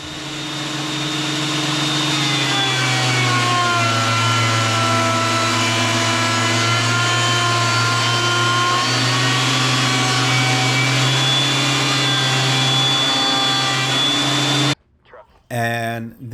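A woodworking jointer runs with dust collection, a loud, steady machine roar with a constant hum that holds for about fifteen seconds before cutting off abruptly, followed by a few brief knocks.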